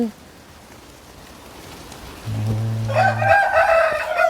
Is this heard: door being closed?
no